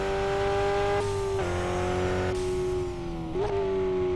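A race car engine in a racing video game holds a high, steady drone while cornering, its pitch dipping and jumping with brief throttle changes and quick shifts, loud and close throughout.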